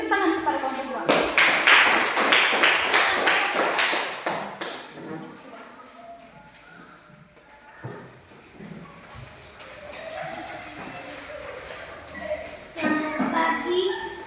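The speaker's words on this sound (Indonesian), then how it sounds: "Beri tepuk tangan kepada kelompok dua" Classroom of schoolchildren clapping for a presenting group, a loud burst of dense claps that fades after a few seconds into shuffling, chatter and voices, with more noise rising near the end.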